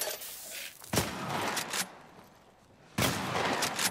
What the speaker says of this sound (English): Joel, fucking shoot him!